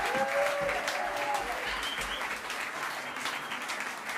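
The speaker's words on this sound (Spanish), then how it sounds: "en realidad se merece mucho este aplauso" Warm audience applause at a big band jazz concert, steady clapping from a crowd heard at moderate level throughout, with a brief whistle-like tone early on.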